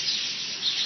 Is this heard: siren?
no